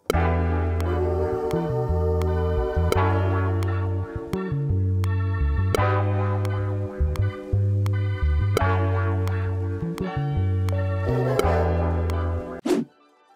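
A music sample plays continuously, with punchy percussive hits over sustained tonal chords and bass, ending abruptly.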